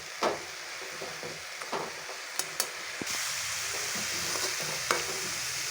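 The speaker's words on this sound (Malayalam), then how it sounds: "ഇനി നല്ലപോലെ ഒന്ന് ഇളക്കിയെടുക്കട്ടെ" Coconut mixture for thoran being stirred in a frying pan, with a steady sizzling hiss and occasional spoon scrapes and taps against the pan.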